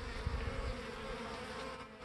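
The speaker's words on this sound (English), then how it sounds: "you can see that there are bees trying to get in by not using the door" Honey bees buzz around a hive during spring robbing, a dense, steady drone of many wings close by with no voices.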